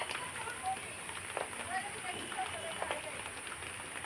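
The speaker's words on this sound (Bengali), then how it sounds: "বৃষ্টি কমে গেছে" Light rain easing off at a village home patters softly on surfaces, a faint, scattered drizzle with a few distinct drops, while voices murmur quietly in the background.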